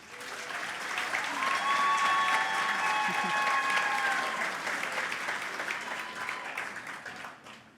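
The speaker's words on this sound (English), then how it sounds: "Yes, please give them a round of applause." An audience at the NSTF-South32 awards gala applauds, a broad sustained wash of clapping that swells, holds for several seconds and then gradually tapers off.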